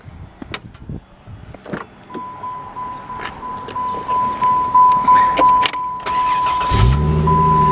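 A 2001 Plymouth Prowler roadster starts up: a few clicks and faint mechanical noises, a whining starter cranking in rising pulses, then the engine catches and settles into a loud, steady idle nearby.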